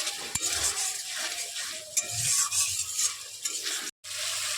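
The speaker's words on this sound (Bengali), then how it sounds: "দিয়ে দেবো লবণ, হলুদ, এবার মশলাটাকে ভালো করে কষে নেব।" Spices with salt and turmeric are stir-fried in a pan, a close, lively sizzle with repeated rhythmic scraping strokes and a brief drop-out near the end.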